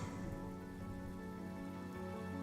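Steady rain falling in a scene from the video game Honkai: Star Rail, a dense continuous patter of drops on surfaces, even and unbroken with no voices.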